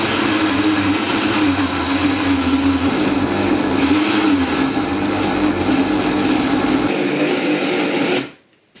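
A blender whizzes cooked beef with a little liquid for potted beef, a loud, steady, close motor whir running for about eight seconds before cutting off abruptly.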